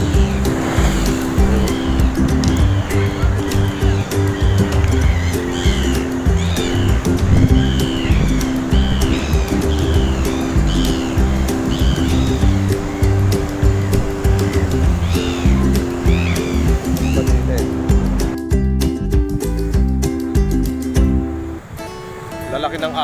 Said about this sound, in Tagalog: Yung alon talagang sumagalubong na.